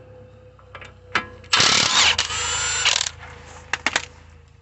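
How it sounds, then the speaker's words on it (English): A power tool spins off the wheel nuts on a VW Audi front-wheel-drive car: several short zips, then a loud sustained whir lasting about a second and a half, followed by a few brief bursts. "First we're going to take out the wheel nuts."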